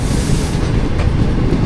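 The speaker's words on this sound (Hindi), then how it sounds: "ट्रेन हमारी पहुंच कर रही है साहिवाल रेलवे स्टेशन पर।" Pak Business Express train pulling into Sahiwal railway station in the evening, a loud, steady rumble of rolling railcars with faint wheel clatter, continuous and close, with no talking.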